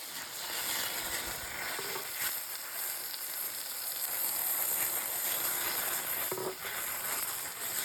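Sauces sizzle and fry steadily in a pan while being stirred into a spicy vodka sauce for an Indian palak chicken dish, a constant close hiss with soft scraping of the spoon.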